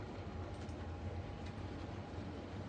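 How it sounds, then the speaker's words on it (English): Model railway freight train running round an indoor layout, with a steady low rumble of small wheels on track and a faint continuous hum throughout, fairly quiet. "I'm also starting another train rumbling round"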